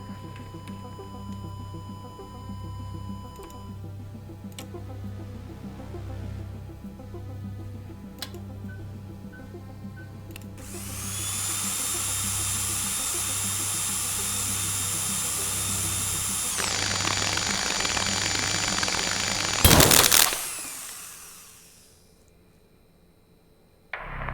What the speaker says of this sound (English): Switch drill on